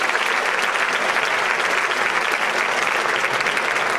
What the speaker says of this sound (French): on peut le remercier et l'applaudir